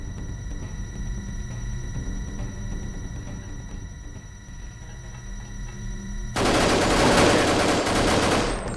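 Assault rifle fire in Deus Ex, a steady stream of game combat noise that suddenly bursts into a louder, harsher blast of automatic gunfire near the end.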